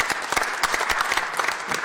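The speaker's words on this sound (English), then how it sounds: "So I just want to give Dave a round of applause and congratulations" An audience at a lake park commission meeting claps in a steady burst of indoor applause, dense and moderately loud, with no voices over it.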